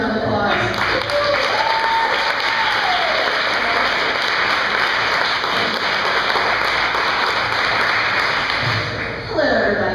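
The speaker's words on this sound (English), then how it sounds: "Give her a round of applause." An audience at a live talk event gives a loud, sustained round of applause lasting about nine seconds, with a voice heard briefly at the start and as it ends.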